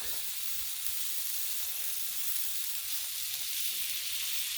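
Tri tip steak searing on a Blackstone griddle gives a steady, close frying sizzle with a constant hiss and no voices over it.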